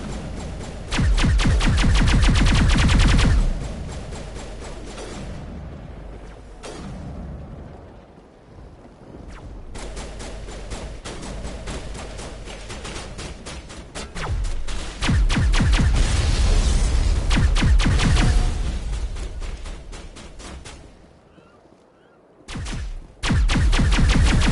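Sustained crossfire from Geth guns and long-range turrets in Mass Effect, loud rapid machine-gun bursts and heavy booming shots rattling almost nonstop, easing briefly before resuming at full intensity.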